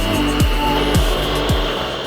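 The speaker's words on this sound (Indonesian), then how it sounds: "Biar nggak capek, pakai blender aja ya." An electric blender grinds a spice paste for an Indonesian dish: a loud, steady motor roar with a whine on top that dips and surges in a regular rhythm about every half second.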